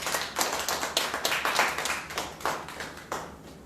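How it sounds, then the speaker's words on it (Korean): A church congregation claps in thanks to Jesus at a youth Sunday service, a close run of uneven hand claps that thins out toward the end. "우리 살아계신 예수님께 감사의 박수 올려드리도록 하겠습니다."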